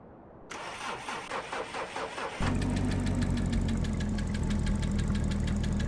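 A car engine in the game My Sleeper cranks with a rapid starter whir, then catches and settles into a loud, steady, rumbling idle, close and without talk.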